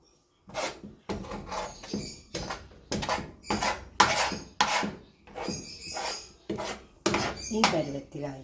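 A mango mixture is stirred in a kadai, the spoon scraping and knocking against the pan in steady repeated strokes, each one a distinct rasping clatter.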